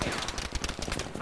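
Rapid automatic gunfire in the World War II shooter Battlefield V, a dense, loud burst of shots packed tightly together with no pause, filling the whole moment.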